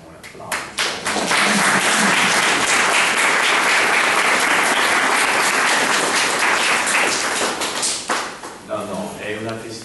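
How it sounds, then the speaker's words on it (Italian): Audience applause at an Italian church conference, a sustained roar of many hands clapping that swells quickly, holds steady for several seconds, then thins out as a voice resumes speaking near the end. "Facciamo un applauso"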